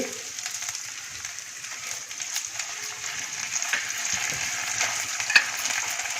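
Onion frying in a pan with ginger paste and tomato puree just added, giving a steady close sizzle with light stirring scrapes and a few small crackles, no voices.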